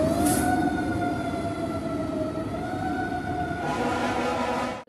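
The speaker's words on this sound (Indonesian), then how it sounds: "Yang ini pemadam kebakaran" A toy fire truck siren wails steadily, a high electronic tone sweeping slightly, loud and close, with a rattling mechanical hum underneath.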